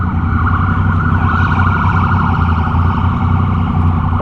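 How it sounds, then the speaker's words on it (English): An ambulance siren wails steadily and loudly from close by, its rising and falling tone held over constant low road and engine rumble with no talk. "Oh, it is an ambulance. It's right there."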